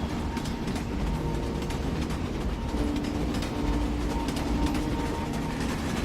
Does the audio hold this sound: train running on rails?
yes